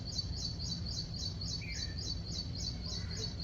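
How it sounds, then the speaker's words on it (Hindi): A small bird chirps loudly from among trees, a quick repeating high call sounding steadily through a constant hissing background, with a brief fainter call partway through. "एक इतनी सी चिड़िया है और इतनी तेज तेज बोल रही है ना।"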